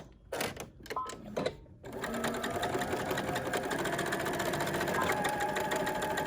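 A sewing machine reinforcing a stitch on a surgical mask starts after a few short stops and starts, then runs steadily in a fast, even whir close by for several seconds.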